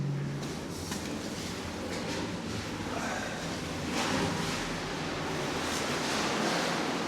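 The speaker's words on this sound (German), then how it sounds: "Da kommt das Wasser durchgeschossen." Heavy sea surf surging and rushing through a WW2 coastal bunker's ventilation pipe, a continuous loud roaring wash with swelling bursts, close and echoing, with no talk.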